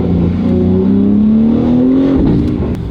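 BMW G80 M3 with a Valvetronic titanium equal-length exhaust revving in an aggressive drive mode: a loud, close engine note climbs and falls, with faint crackles toward the end.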